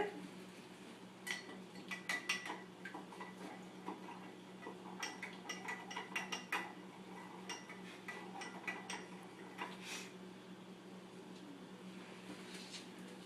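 Sodium carbonate solution, a green-tinted dish detergent mix, being stirred in a container, giving scattered light clinks and taps of utensil against glass in irregular bursts over a steady low background hum, fairly close.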